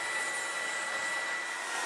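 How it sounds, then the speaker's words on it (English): A DR75C steam cleaner and vacuum working a carpet gives off a steady, loud broadband whoosh with a thin whine riding on top, unbroken and with no voices. "Carpets are cleaned and freshened using the steam and vacuum simultaneously."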